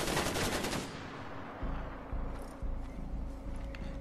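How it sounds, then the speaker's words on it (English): Nonstop automatic gunfire in Far Cry 4, an opening burst of rapid shots followed by repeated heavy low booms at regular intervals, loud and sustained. "They're just shooting nonstop."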